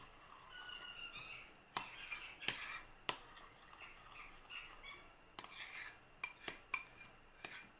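Kiwi ingredients are stirred together in a kitchen bowl: quiet scraping with a few sharp spoon clinks against the bowl's side, close by and without talk.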